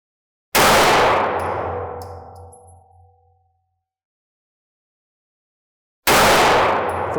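A 9mm handgun fires at steel targets 50 feet away: two sharp, loud shots, each followed by a long metallic ring that fades over a few seconds, with the second shot cut off at the end.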